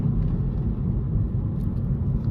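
Honda Civic with a 1-liter turbocharged engine cruising in the rain, giving a steady, close low rumble of engine and road noise without a break.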